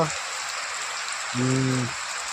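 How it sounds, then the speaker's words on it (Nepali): Rain pours steadily in Chitwan, an even hiss of drops on surfaces, with a brief tonal hum breaking in midway. "लहै चितवनमा पानी परेको अवस्था।"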